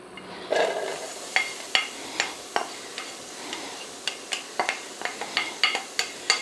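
Finely chopped onion and celery fry in a pan for Thai potato cakes: a steady soft sizzle with sharp scraping clicks of stirring that come faster toward the end, close and moderately loud.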